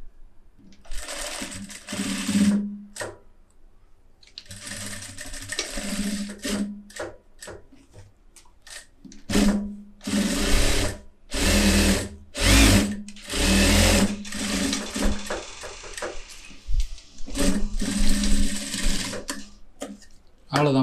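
A tailor's sewing machine stitches a garment in short and long bursts of rapid mechanical whirring, stopping and restarting repeatedly, close and clear, with someone talking in the pauses.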